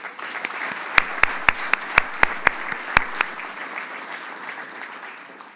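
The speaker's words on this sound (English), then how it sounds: "could we please give a round of applause for our Women's Senior Player of the Year, Lisa Schlesinger" Applause at an annual golf association awards dinner for the women's senior player of the year, steady crowd clapping with several sharp, close individual claps punctuating the first three seconds before fading.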